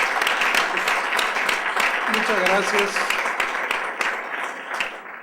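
Audience applause at a book discussion event, broad clapping from a seated crowd that rolls on steadily while someone speaks briefly over it, tapering toward the end.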